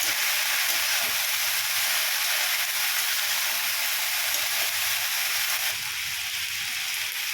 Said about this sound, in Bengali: খুব বেশি আমি লালচে করে ভাজছি না, হালকা করেই ভেজে নিচ্ছি